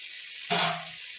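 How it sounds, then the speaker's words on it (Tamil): Ginger and garlic sautéing in a pan for a raw-banana dish, a sudden close sizzle bursting in midway and holding briefly before easing off, no talk. "இப்போ இஞ்சி பூண்டு நல்லா வதங்கிடுச்சு"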